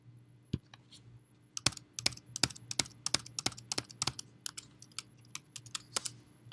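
Computer keyboard typing as credit card details are entered into a patient payment screen, a run of crisp keystrokes that starts sparse then speeds into a steady clatter, close and clear with no talking.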